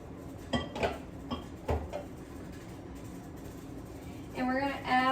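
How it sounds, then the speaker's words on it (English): Carrot pieces cut to about two inches are dropped into a skillet, producing a few scattered clinks and knocks of metal cookware against steady room noise, with a brief rattle near the end. "we're going to put this into the skillet"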